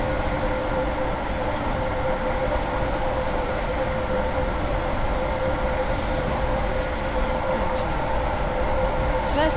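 A Roblox Stepford County Railway train stands at a station in the game, a steady, close rumbling hum with a faint held tone, and a few brief chirping sounds near the end.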